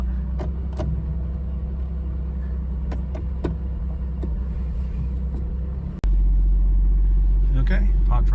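A 1965 Mercedes-Benz 220SE Cabriolet idles with a low steady engine rumble as it warms up, faint clicks and handling sounds on top, then a sudden jump to a louder, fuller roar near the end.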